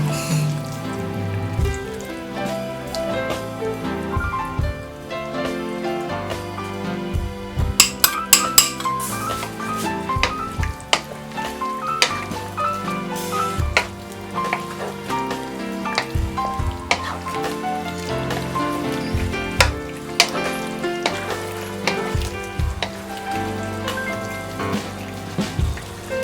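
Loud, steady sizzling in a hot pan as potato starch slurry is poured over cooking offal skewer meat, with crackling pops and brief bursts of intensified frying.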